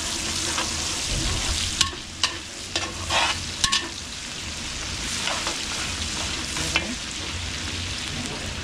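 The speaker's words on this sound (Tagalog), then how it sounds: "So kapag-prito na tayo ng bawang." Garlic frying in a pan at a fiesta cooking session in Minalin, Pampanga. It makes a constant loud sizzle, broken by several sharp clacks and scrapes of a utensil stirring, with no talking.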